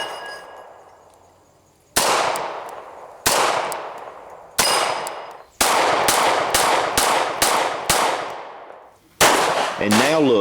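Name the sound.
Beretta pistol firing 9mm HPR ammunition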